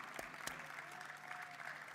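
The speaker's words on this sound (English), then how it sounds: "Let's give a round of applause for this amazing panel." Audience applause for a panel at a Black Caucus event, a steady wash of clapping from a crowd that holds moderately loud for the full two seconds, with one sharper clap standing out near the start.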